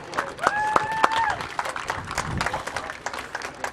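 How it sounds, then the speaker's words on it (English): Crowd applause for the players and officials before a gridiron game, Arizona v Gridiron Queensland, 2009: dense, steady clapping across the whole stretch, with a brief whistle-like tone early on and voices mixed in. "I'd like everyone to give all the players and officials a big round of applause"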